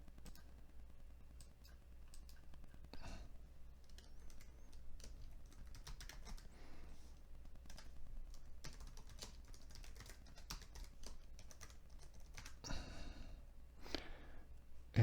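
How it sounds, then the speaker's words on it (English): Quiet clicking of typing on a computer keyboard in bursts of keystrokes with short pauses, close and faint, with no talk. "just type in what you want, hit enter"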